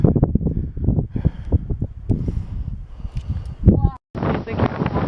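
Gusty wind buffets hikers near the cloud-covered summit of Mount Jefferson, a low rough rumble under people talking and moving, turning to a steady roaring blast of wind noise at the end.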